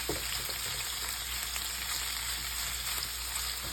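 Shrimp for scampi searing in a hot pan over high heat, an even, steady sizzle with a low background hum and a few faint pops.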